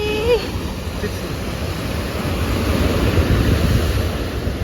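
Sea wind and surf at the beach in Calambrone, a steady broadband rush of waves and wind buffeting the microphone, with a brief faint voice near the start.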